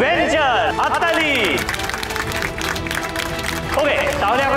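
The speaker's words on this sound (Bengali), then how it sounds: "হাততালি।" A studio audience at a stage launch event on a Bengali television show claps steadily for several seconds, with whoops and raised voices riding over the dense, continuous applause.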